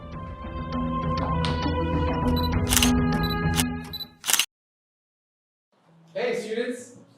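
A single camera shutter click sounds as a selfie is taken, a short sharp snap after a stretch of music-like tonal sound, followed by silence and then a brief burst of noise.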